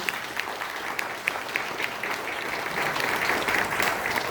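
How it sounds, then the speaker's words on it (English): An audience at a Polynesian cultural center show applauds hula dancers, a steady wash of many hands clapping that swells slightly louder toward the end, with no talk over it. "How about a round of applause for our dancers?"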